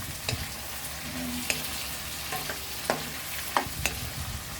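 Tomatoes sauté in a pan for Filipino pork monggo, a soft frying sizzle broken by sharp spatula scrapes and taps against the pan, with no one speaking.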